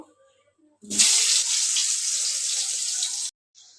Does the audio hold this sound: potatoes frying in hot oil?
yes